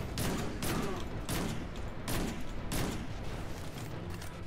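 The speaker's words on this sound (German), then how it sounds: "Oh, die Schüsse haben gut gesessen." Sniper rifle shots in the video game Destiny 2, with repeated sharp gunfire bursts in a steady rhythm, loud and close, about five reports over a few seconds with no talk.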